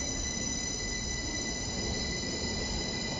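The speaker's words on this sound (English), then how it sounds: "there's a train leaving." Wheels shriek in a long, even squeal as a train departs over an abandoned-era viaduct, a steady metallic whine riding on low rail rumble throughout, no talk.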